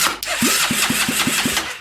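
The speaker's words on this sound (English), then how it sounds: "I'm hooking the starter up." Starter motor cranking a 1970s formula kart engine, a short burst of about seven rapid, evenly spaced compression chugs, loud and close, with no talking.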